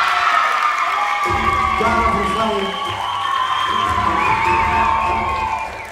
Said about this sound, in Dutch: En ook een hartelijk applaus voor Cara Verfaille.